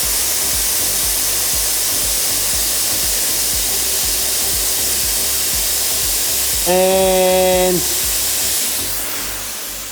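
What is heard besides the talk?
Chief Steamer 125 steamer releasing steam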